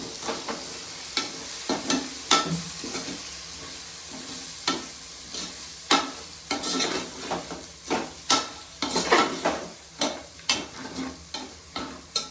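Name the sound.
stirring coriander powder into biryani masala in a pan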